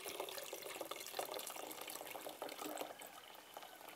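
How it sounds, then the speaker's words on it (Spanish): Water poured gradually into a prehispanic-style fruit drink made with cherimoya, sweetened with piloncillo syrup, a steady close trickling and splashing wash that runs continuously throughout. "Vamos agregando poco a poco el agua"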